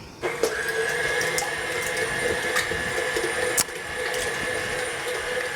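An electric stand mixer beating butter and eggs for gluten-free bread dough, a steady close motor whir with a faint high whine and occasional clinks from the beaters.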